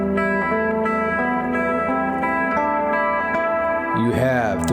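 A guitar plays a dark, evil-sounding Phrygian mode line, sustained notes stepping one after another, loud and clear, ending in a quick slide or bend near the finish.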